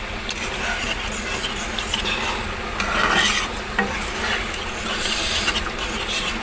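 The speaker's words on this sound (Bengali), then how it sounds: "দিয়ে এবার ভালো করে নাড়িয়ে দেবো" Spice paste and sour yogurt stirred in a pan for reshmi paneer, a steady close scraping and swishing with a faint sizzle underneath, continuous without talk.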